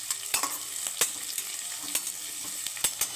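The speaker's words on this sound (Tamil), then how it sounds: "நல்லா பொன்னிறமாக வர வரைக்கும் நல்லா வணக்கிக்கலாம்." Kongu-style tomato rice ingredients sautéing in a hot pan until golden brown, with a steady soft sizzle and frying hiss broken by several sharp stirring scrapes and clinks from a spoon.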